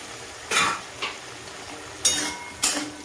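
Long-cut potato pieces added to a pan of simmering masala and stirred: a few sharp scrapes and clinks of a spoon against the pan, spaced apart over a quiet sizzle.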